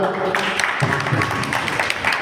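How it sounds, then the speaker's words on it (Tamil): An audience at a bhajan gathering in a Shankara Math hall in Kumbakonam claps in a quick, dense burst at moderate volume, with voices mixed in among the applause. "நல்லா கைத்தட்டல் ஜோரா"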